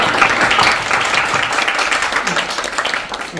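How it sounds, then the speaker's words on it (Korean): Audience clapping at a film screening panel talk, a thick, steady wash of many hands applauding throughout, fairly loud, with voices mixed in. "박수를 쳐주시면"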